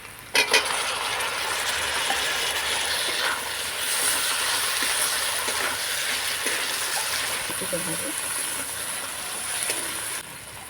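Chopped onion is stirred and lightly fried in a pan, giving a steady hiss with scraping stirs and a couple of sharp knocks near the start, heard close and moderately loud.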